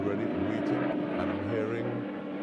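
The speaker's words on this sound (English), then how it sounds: "that's actually a helicopter, so I guess that's not the plane as yet" Helicopter flying overhead at an outdoor arrival event, a steady low droning rotor hum that holds throughout with little change, faint indistinct voices beneath it.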